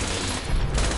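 A turret in the Fallout 76 video game opens fire with rapid automatic bursts. The shots are loud and close and run together into a continuous rattling volley for about a second, with no speech.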